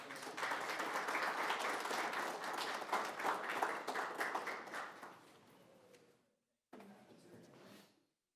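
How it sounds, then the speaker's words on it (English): Audience at a city council meeting applauds in a lively burst of clapping that fades out after about five seconds, followed by a brief cut and a short return of the sound. "All right, how about a round of applause for them?"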